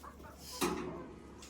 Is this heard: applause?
no